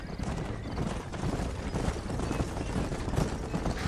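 Rapid horse hooves clip-clop in the video game Red Dead Redemption, a dense galloping clatter with a brief whinny, heard close and fairly loud over game ambience.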